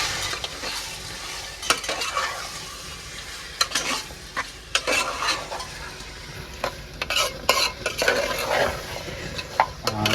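Onions being stirred in a pan of oil, cooked outdoors beneath a truck: a steady sizzle with frequent scraping and clinking of the spoon against the metal pan, close and fairly loud, no voices.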